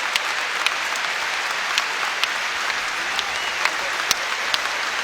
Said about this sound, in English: Marquise Bolden getting a nice hand from the crowd here at North Carolina